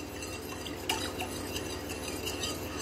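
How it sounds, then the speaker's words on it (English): Melting lard and oils are stirred in a pot for goat's milk soap, with faint scraping and occasional light clinks of the utensil against the pot over a quiet background. "We'll stir this around till they have melted."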